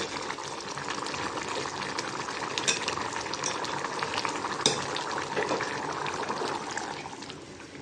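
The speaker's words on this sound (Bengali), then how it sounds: "একটু জিরার গুঁড়া দিব জিরার গুঁড়া নাড়াচাড়া দিয়ে নামিয়ে নেব" Teasel gourd curry with potato and shrimp paste, dusted with cumin powder, is stirred in a pan with a continuous moderate sizzle and faint scraping of the spoon.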